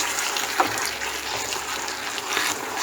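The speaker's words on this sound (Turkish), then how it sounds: "Suyumuzu şekerimizi ilave edelim." Water poured into melted caramelized sugar in a pan, a loud steady hissing gush with crackly sizzle throughout.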